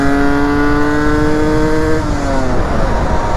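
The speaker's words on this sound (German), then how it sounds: "Oh, 2-Takt Untertourig, ist das sowas Geiles." A KTM EXC 125 two-stroke dirt bike lugs at low revs, loud and close, its buzzing engine tone sliding downward as the revs fall off.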